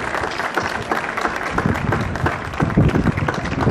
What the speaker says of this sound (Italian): l'applauso va tutto al nostro ospite Giuseppe Colangelo